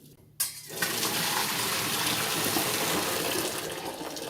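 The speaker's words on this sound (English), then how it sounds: "turn those off and drain them" Boiled French beans drained into a sink, hot water pouring in a steady loud gush that starts abruptly after a brief quiet moment and continues throughout.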